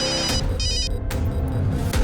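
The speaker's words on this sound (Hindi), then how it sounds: "अगं मोबाईलची रिंग वाजते, बघ जा कोणाचा फोन आहे बघ" A mobile phone rings indoors with short bursts of bright electronic tones over a low background rumble, with no voices.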